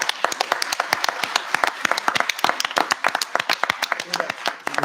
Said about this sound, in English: I want to give all of them a big round of applause for the work that they are doing